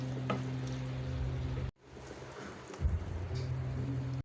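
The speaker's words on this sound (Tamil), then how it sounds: "இப்போ இது நல்லா ஃப்ரை ஆகட்டும் நல்லா ஃப்ரை ஆகணும்" Crushed black pepper and cardamom frying in oil in a pan, a steady close sizzle with a brief break and stirring scrapes.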